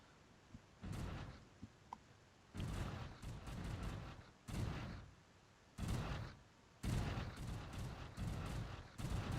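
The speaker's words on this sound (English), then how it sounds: "Large number of torpedoes coming in." Space battle weapons fire in the video game Stellaris, bursts of rumbling, crackling blasts that come in irregular waves with short gaps between, fairly distant and quiet.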